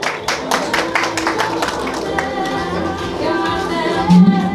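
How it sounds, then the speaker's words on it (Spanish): An audience at a fiftieth birthday party claps for a gentleman about to speak, with sharp, fairly close claps at first that thin into softer scattered clapping and room noise. "Fuerte los aplausos para el caballero,"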